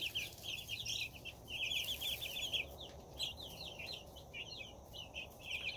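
Week-old Rhode Island Red and Cornish Rock chicks peep in a steady, overlapping chorus of high chirps, moderately close but soft, with no talking.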